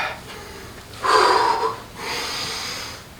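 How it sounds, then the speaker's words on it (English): A person breathing deeply during a workout, one loud, close, forceful inhale followed by a longer, softer exhale, heard alone with no talking. "Take some nice big inhales. Exhales."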